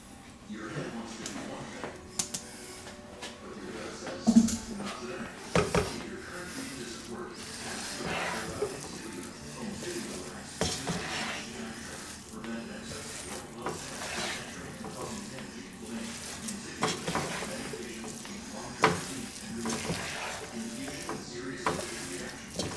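Beans and onions hit a hot pan for bean rice, giving a continuous soft sizzle broken by scraping stirs and utensil clinks, with people talking quietly over the cooking.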